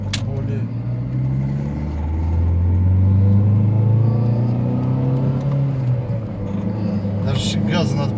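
A Lada Priora with its check-engine light on drives along; its engine hums and rumbles steadily from inside the cabin, the pitch rising gently as it accelerates, with a brief sharper rattle near the end.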